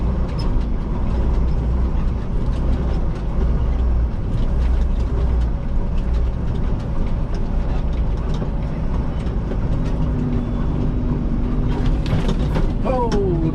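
Garbage truck crossing rough terrain atop a landfill trash pile: a loud, steady low engine and chassis rumble with rattling and clanking throughout, and a brief rising whine near the end.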